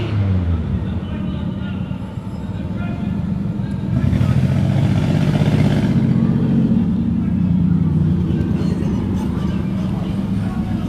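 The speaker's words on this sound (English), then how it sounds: "So we have a car full of kids driving down, hanging out the windows and stuff." A car passes along a city street during a Portland protest, its engine rumble swelling and lingering amid road noise and crowd murmur, with people talking throughout.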